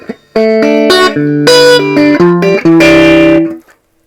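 Short phrase of clean, bright electric guitar chords and single notes through a vintage Marshall 8010 amplifier, loud and close, ringing briefly before fading out.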